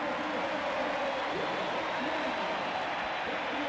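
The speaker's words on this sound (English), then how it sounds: "the applause is second only to Luis Figo's" Stadium crowd applauding at a football match as a player leaves late in the game, a dense, steady wash of clapping and crowd noise throughout, with no clear break.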